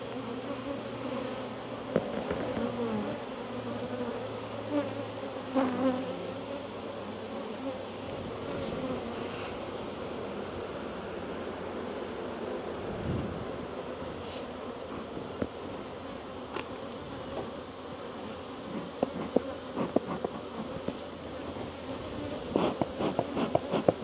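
Bees buzz steadily and close by around a beehive, a dense droning hum with occasional louder passes as individual insects fly near the camera.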